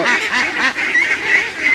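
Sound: ducks

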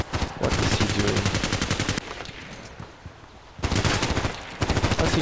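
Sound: gunfire in the video game Contract Wars

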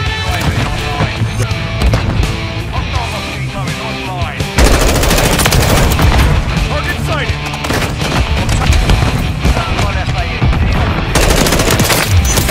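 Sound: gunfire in Call of Duty Modern Warfare 3 video game

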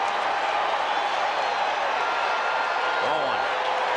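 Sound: baseball crowd noise at Shea Stadium

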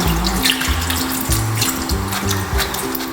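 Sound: tap water rinsing mangoes to wash off limewater

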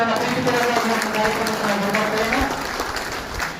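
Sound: applause at a civilian rifle training closing ceremony

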